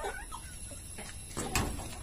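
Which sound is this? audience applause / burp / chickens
chickens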